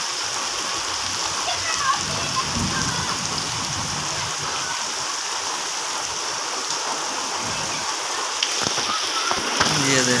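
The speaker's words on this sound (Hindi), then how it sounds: "ये देखें बारिश का नाम नहीं ले रही।" Steady, dense rain hisses across the whole stretch, a constant wash of water with faint splashing and a few brief sounds rising near the end.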